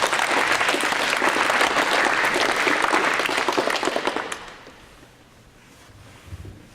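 High school students at a comedy hypnosis show applaud in a full, loud burst of clapping that fades away after about four seconds, leaving quiet room noise and a soft thump.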